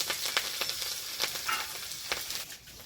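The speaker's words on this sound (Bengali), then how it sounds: "ওই তেলের মধ্যে দেবো দুটো তেজপাতা, কাঁচা লঙ্কা আর হচ্ছে 5 ফোড়ন, একটু কালো জিরে রয়েছে দিয়ে দিলাম।" Bay leaves, green chili, panch phoron and black cumin sizzle in hot oil, a soft steady crackle with scattered sharper pops and spits, close and moderately quiet, with no talking.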